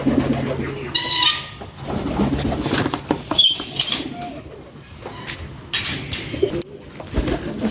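Pigeons coo in soft, repeated throaty calls close by, with a brief flutter of wings and faint background noise.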